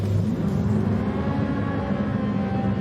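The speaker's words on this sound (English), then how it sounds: "So revving the engine for the start." Racing car engine in a video game revving at the start of a daily race, a steady loud rumbling drone with a low whir running unbroken throughout, no voices over it.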